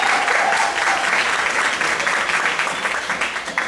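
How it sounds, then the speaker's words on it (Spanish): Sustained audience applause at a live music gig for a duo, dense and steady clapping from a crowd, loud and close, with no talk over it. "un fuerte aplauso."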